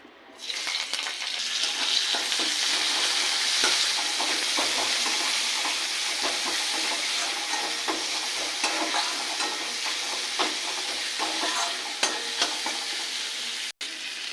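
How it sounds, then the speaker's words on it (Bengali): Sliced onions frying in hot oil in a wok for birista, a loud continuous hiss and sizzle with light stirring scrapes and a few clicks, lasting throughout with no speech. "এবার একটু বেরেস্তা ভেজে নেব।"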